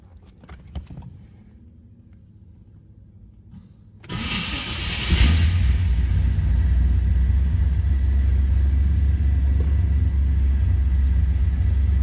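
After a quiet stretch with a few clicks, a 1968 Chevrolet Corvette engine cranks and catches on a cold start, then settles into a steady, low, rumbling idle close by.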